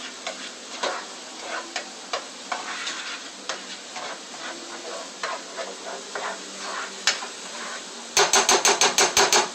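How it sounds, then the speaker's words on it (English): Onion sizzling in olive oil in a pan, a steady close crackle broken by irregular utensil taps and stirring clatter, ending in a quick run of sharp rhythmic knocks. "we got a nice little sizzle going on this pan over here"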